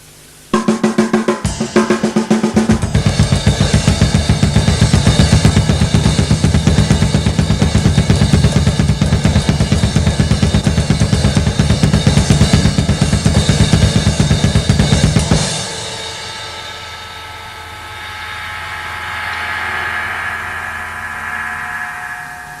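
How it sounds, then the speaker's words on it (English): Fast drum solo of cymbals ridden over a rapid double bass drum pattern, a dense, loud, relentless wash of strikes for about fifteen seconds before stopping abruptly into quiet room tone. "playing the cymbals with the bass drum playing, or the double bass drum playing"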